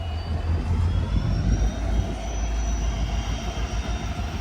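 Express sleeper train pulling out of Bhavnagar, Gujarat, a loud continuous low rumble with engine drone and faint high whine, steady and close, no talking.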